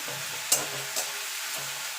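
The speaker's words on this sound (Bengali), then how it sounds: "এবার রসুনটাকে একটু ভালো করে ভাজা ভাজা করে নেবো যতক্ষণ রসুনের কাঁচা গন্ধটা চলে না যাচ্ছে" Garlic frying in a pan for a Bengali-style chicken kosha: a steady, moderate sizzle with a few sharp stirring clatters breaking through near the start and middle.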